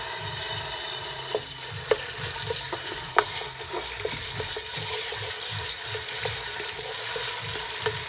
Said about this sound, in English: And I'll put the tomato puree in it now.